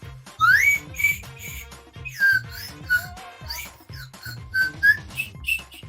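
Little toy whistles playing Bach's Prelude No. 1 in C, a sequence of thin, bright, slightly wobbly tones in short rhythmic phrases with gliding pitches and clicks between notes, close and alone.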